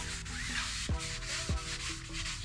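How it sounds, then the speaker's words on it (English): A 1949 Jeep Willys body panel being hand sanded with 320 grit paper, soft uneven rubbing strokes at low volume with a few dull knocks. "instead of doing 220 like we did on the hood, we're gonna do 320, and then we'll go to 400 wet sand"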